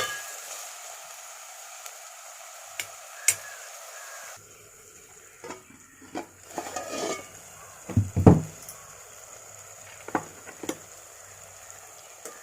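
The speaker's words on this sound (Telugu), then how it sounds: "ఇప్పుడు టమాటోస్ కూడా వేసేసుకొని ఒకసారి కలిపేసుకొని కొద్దిసేపు కుక్ చేసుకోవాలి" Tomatoes being stirred in a frying pan while cooking egg masala curry: soft sizzling with scraping and clinking of a spoon against the pan, a few louder knocks near the middle.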